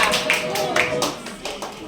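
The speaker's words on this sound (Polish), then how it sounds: "Brawa dla Antosia." A short burst of scattered clapping from parents at a kindergarten initiation ceremony, applauding a preschool boy, with several distinct nearby claps and a voice speaking over them.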